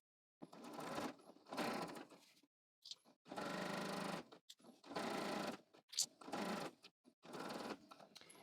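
A sewing machine back-stitching along a pant hem in several short runs separated by pauses, close and clear with no talking.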